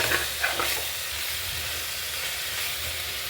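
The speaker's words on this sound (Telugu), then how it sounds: "చూడండి, కొంచెం బాగా మంచిగానే కుక్ అయింది, బ్రౌన్ కలర్ వచ్చింది, అంటే కొంచెం వేగిందండి" Mutton browns in a hot pan for Telangana mutton curry, giving off a loud, constant sizzle with a few brief scraping clatters as it is stirred near the start.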